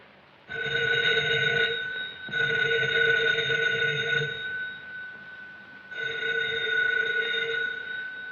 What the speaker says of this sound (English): Good heavens, will no one answer the phone?